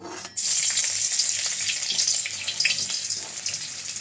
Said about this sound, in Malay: kita tumis dulu bahan-bahan ni